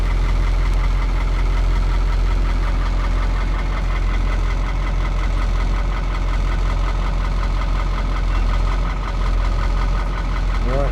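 An old Caterpillar V8 diesel dump truck engine idles with a loud, steady low rumble and a rough knocking beat, running without a break and with a faint voice behind it.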